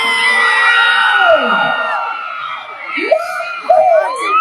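Crowd at a live band concert in an outdoor public plaza cheering, whooping and shouting, a dense sustained roar with several high screams rising over it.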